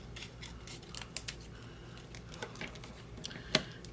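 Scissors cutting paper for a planner setup, a run of faint, close snips and crinkles with one sharper snip near the end, no talking.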